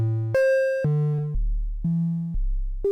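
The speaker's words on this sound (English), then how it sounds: "So the softer sound of the sine wave," A clean sine tone from a synthesizer module, run through a Tembra dual all-pass filter module, steps through a short sequence of sustained pitches, each note held about half a second, loud and alone.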